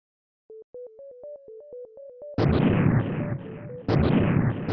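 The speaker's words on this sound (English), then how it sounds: "the rebel leader who created the robots detonates a bomb inside them, destroying the player character" Bomb detonation in the video game The Ninja Warriors: Once Again, where a series of short electronic beeps gives way to a loud, sustained explosive roar with a second blast burst near the end.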